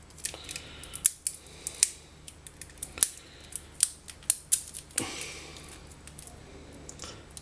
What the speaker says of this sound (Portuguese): Aqui tenho mais fita cola que eu vou tentar tirar.